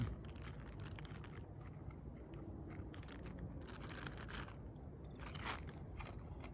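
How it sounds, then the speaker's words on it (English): Crunchy fried ripe plantain chips (platanitos maduros) are bitten and chewed up close on a hike near Cerro Punta, giving soft repeated crackling crunches over quiet outdoor background. "crack open a bag of platanitos maduros. These are ripe plantain that have been fried."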